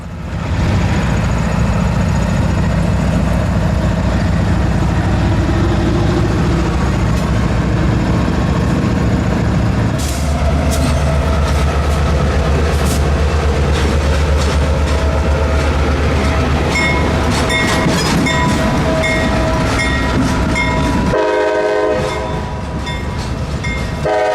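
Norfolk Southern locomotive 5330 pulls a cut of cars out of a rail yard in Jacksonville, a loud continuous engine rumble with rolling wheel noise and clicking rail joints, steady throughout.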